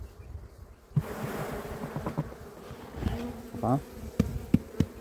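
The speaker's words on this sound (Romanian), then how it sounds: "Plus pe perete albină, plus pe fund. O familie prea puternică" Honeybees swarm and buzz in a dense, steady drone at an open, crowded beehive during autumn inspection, close and continuous, with a brief spoken syllable and a few soft knocks from handling the frames.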